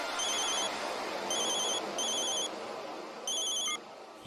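A cartoon telephone rings in bursts of bright electronic trills, four short ring phrases with brief gaps over a steady background bed, fairly close and clear, with no talking.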